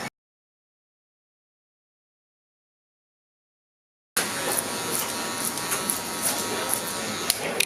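Wahl cordless Sterling 4 clippers with a 1.5 guard used clipper-over-comb to blend hair, silence at first, then a close, steady electric buzz with small irregular clicks and scrapes for the last few seconds.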